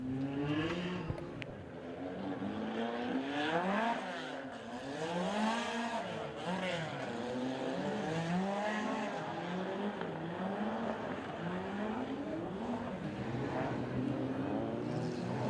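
2.1 modified race cars run laps at a regional meeting, engines droning and sweeping up and down in pitch as they pass, steady and moderately distant under a commentator's continuous talk.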